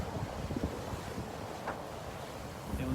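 Wind at sea while sailing roars steadily, buffeting the microphone, with faint wash of waves and a few low knocks from the boat.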